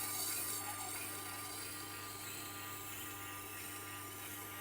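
A WÜSTHOF knife blade is drawn freehand across a sharpening stone, giving a faint, continuous hiss and scrape of steel on stone with a low steady hum beneath.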